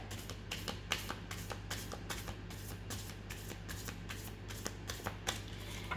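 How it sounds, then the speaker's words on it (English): A deck of tarot cards is shuffled by hand, a rapid run of crisp riffling taps and flicks repeating steadily at close range, with no voice. "So let's start by first clearing the deck."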